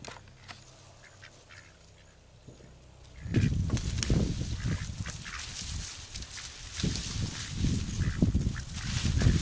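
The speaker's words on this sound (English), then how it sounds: "Chickens and ducks sure like it when I clean out the garden." After a few quiet seconds, a bunch of ducks burst into busy quacking nearby in a garden, a continuous jumble of calls that keeps going to the end.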